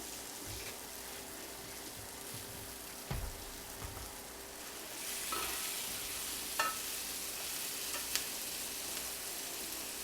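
Mushrooms sauté quietly in a pan, giving a soft, steady sizzle with a few light stirring clicks and no voices.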